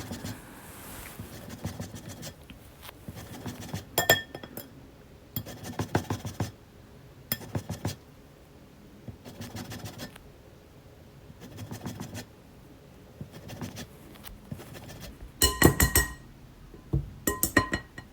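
Lemon being zested over a grater for sourdough scones, a series of short scratchy rasping strokes with small clinks, quiet and close, separated by brief pauses.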